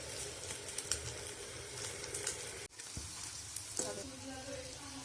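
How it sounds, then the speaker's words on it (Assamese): Banana flower pieces crackle and sizzle in hot oil as they crisp, a close, continuous frying sound with a short break midway. "মই এতিয়া মচমচীয়াকৈ ভাজি লৈ এখন প্লেটত নমাই ৰাখিম।"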